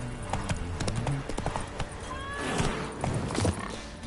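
Hooves of Roach, the horse in The Witcher 3, clip-clop steadily and close up, with a brief whinny partway through over a low game ambience.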